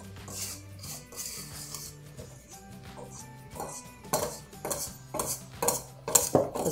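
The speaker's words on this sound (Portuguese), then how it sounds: "Eu vou misturar os ingredientes e você pode usar ou fouet ou o próprio batedor" A whisk or mixer beater works angel cake batter, made without flour, milk or yolks, in a bowl, giving scraping strokes and metallic clinks that grow louder and more frequent toward the end over soft background music.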